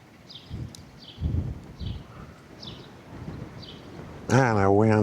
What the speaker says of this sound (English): Man, that wind's been bad.